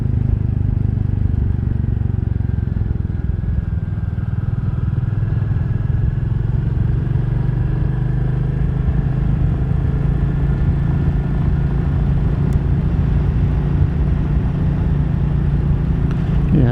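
A 2022 Royal Enfield Classic 350 motorcycle ridden along a rural Spanish countryside road, its engine a steady, loud low rumble with wind noise throughout and a brief click near the end.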